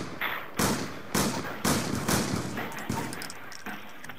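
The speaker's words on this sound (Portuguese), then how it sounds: "Dispara as suas balas todas até ficar só com uma." Revolver shots fired one after another until only one bullet is left in the cylinder, about eight loud, sharp cracks in a fairly steady rhythm, close and with no voices.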